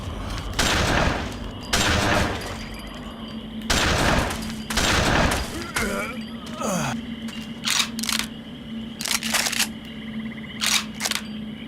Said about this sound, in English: Dual-wielding shotguns.